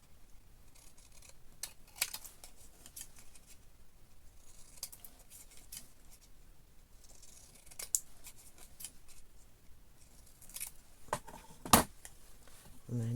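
Scissors snip through a cut-out paper craft panel in a series of short, quiet, irregular cuts, ending with a sharper, louder snip near the end.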